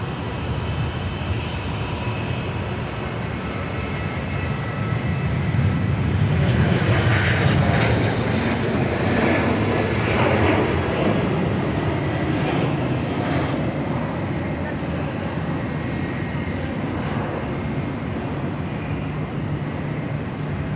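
A China Airlines airliner from Taipei lands on runway 16 right at Sydney Airport, its jet roar building steadily and loudest midway as it passes fairly close, then holding as a broad, sustained rumble.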